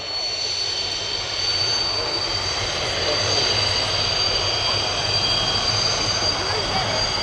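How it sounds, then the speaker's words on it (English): A British Army Apache attack helicopter flies a display at an air show, its loud, steady rotor and turbine roar filling the air continuously from a moderate distance. "Ladies and gentlemen, the British Army Apache attack helicopter."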